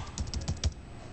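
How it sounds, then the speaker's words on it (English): Brief burst of typing on a computer keyboard while entering a search term in design software, several quick close key clicks in an irregular rhythm, alone without talk. "If I click this and then type in brick again."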